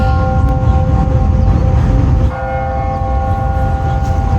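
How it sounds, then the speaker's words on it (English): A bell rings during a stage performance, its sustained tonal hum heard loud and close over a low rumble, then a softer, changed tone continuing after a brief break. "It's the same bell ringing the same sound"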